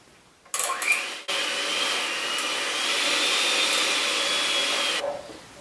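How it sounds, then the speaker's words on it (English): An electric mixer whirring through lemon pound cake ingredients in a kitchen, a loud steady motor drone starting briefly, pausing, then running about four seconds before cutting off. "so I'm going to go ahead and mix those."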